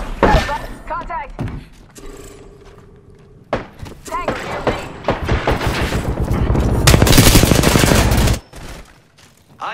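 Automatic gunfire in the battle royale shooter Apex Legends, with loud sustained bursts and fusillades building to a dense peak before cutting off, mixed with game voice lines and impact thuds.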